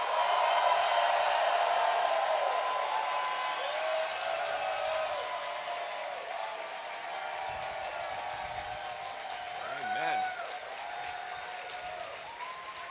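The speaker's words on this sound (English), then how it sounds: "I want to hear a thunderous applause for the heroes of Stonewall" A large outdoor rally crowd applauds the heroes of Stonewall at the 50th anniversary commemoration, a long sustained roar of clapping and cheering with scattered whoops, slowly easing but staying strong throughout.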